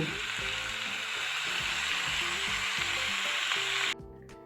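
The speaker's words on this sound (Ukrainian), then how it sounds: "Все ретельно перемішуємо і додаємо 50 мл кип'ятку." Cabbage in a hot pan, stirred and doused with boiling water, gives a loud continuous sizzle and hiss throughout that drops off sharply near the end, with no talking.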